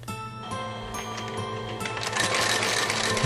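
A sewing machine stitching leather on Meindl mountain boots, running in a loud, steady mechanical whir that rises and grows busier toward the end, close up with no voices.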